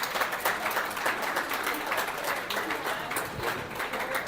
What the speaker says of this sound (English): Please give her a round of applause one more time.